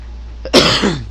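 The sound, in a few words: cough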